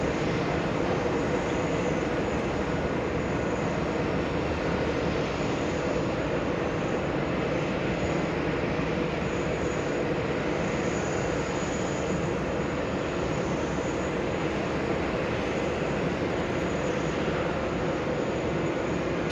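An Airbus A380 airliner's engines drone continuously at JFK airport, a broad, steady roar that holds at a constant loudness throughout with no voices.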